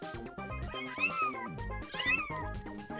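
A cat meows loudly and close, two drawn-out wailing cries that bend in pitch, set against layered electronic tones and no speech.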